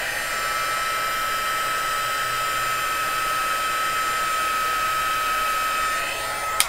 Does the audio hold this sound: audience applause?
no